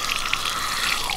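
Water bursts steadily from the twisted tap of a drinking water jug near Hakata Station, a continuous hissing spray lasting about a second with no talk over it.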